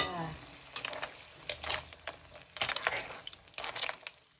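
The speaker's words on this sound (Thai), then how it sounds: "แล้วก็เอาเส้นที่ต้มสุกแล้วมาผสมรวมกันนะคะ" Boiled pasta gets stirred into sauce in a pan with wet scraping and soft sizzling, and the utensil clacks against the pan in irregular bursts.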